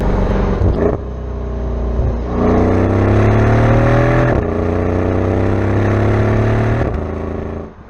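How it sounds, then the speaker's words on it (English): A Mercedes CL 63 AMG with a twin-turbo V8 rumbles loudly and close while driving, its deep exhaust note rising and falling through several rev swells and gear changes. "The V8 also has a nice rumble to it."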